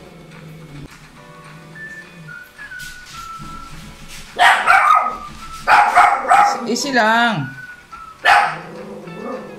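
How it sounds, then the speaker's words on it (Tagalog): A dog barks in several sharp, close bursts during a home repair of a Hanabishi 7.5 kg automatic washing machine, mixed with whistling and yips, while a person speaks briefly. "Kumakahol talaga. Pag hindi yan kumahol, hindi yan aso."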